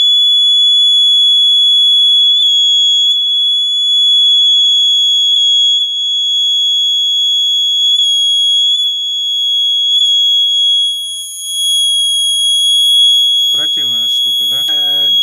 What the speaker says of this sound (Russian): И с увеличением напряжения